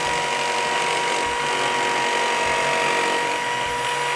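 Bad Dog Biter circle cutter trimming a rim, a steady loud mechanical whir with constant tonal hum and no pauses, heard up close with no talking.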